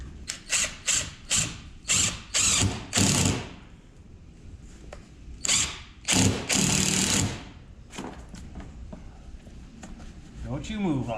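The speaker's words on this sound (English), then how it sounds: "I'm going to put the first screw right down here in the center of the bottom." A power driver runs a black screw into black carpet on the interior floor of an old Peterbilt 359 truck, with several short whirring bursts followed by longer, strained runs, close up and loud.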